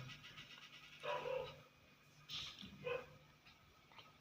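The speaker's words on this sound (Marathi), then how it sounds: "तर बाहेर कसे कुत्रे भुकते इकडे" A couple of dogs bark in the distance outdoors, two short bursts of barking separated by quiet ambient noise.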